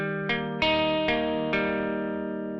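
An electric guitar with distortion and chorus-like effects plays a short phrase from a song: four ringing chord strikes, each decaying into the next, close and loud without talk.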